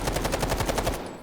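Rapid automatic gunfire from a gun in the video game Delta Force: a burst of about ten evenly spaced shots in roughly one second, punchy and close, then cut off.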